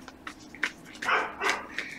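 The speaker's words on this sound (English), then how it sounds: "I'm so sorry for the dogs in the background." Dogs barking in the background indoors: a series of short barks and yips, some sharp, some muffled, spaced irregularly and moderately distant, without talk.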